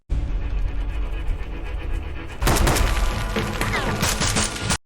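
Dense bursts of gunfire and booming impacts erupt in an action film as a Navy SEAL lays down fire, a continuous loud barrage that intensifies halfway through before cutting off.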